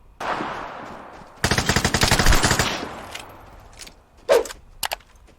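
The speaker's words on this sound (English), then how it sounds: "my bugle will fire quicker than the Raffica will" Rapid machine-gun bursts from Bugle and Raffica guns in the Vigor video game rattle loud and close, a dense volley of shots followed by a few isolated sharp cracks and clicks.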